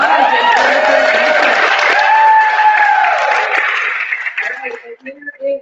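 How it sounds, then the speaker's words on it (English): Applause and cheering from the audience at a team business meeting for newly signed distributors, with voices mixed into the clapping, which dies down to scattered claps near the end. "Let's give them a round of applause."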